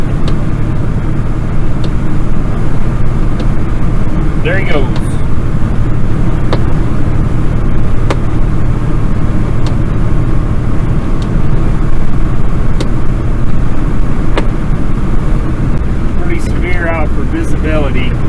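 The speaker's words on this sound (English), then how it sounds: "I got a truck coming from behind." A truck on a snowy Wyoming highway in a snowstorm comes up from behind and goes by, its steady road rumble and tire roar running under the whole stretch while someone talks briefly.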